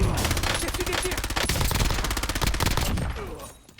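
Dense bursts of automatic gunfire in the battle royale video game Warzone, loud and continuous, with rapid rattling shots over a busy game mix that thins out briefly near the end.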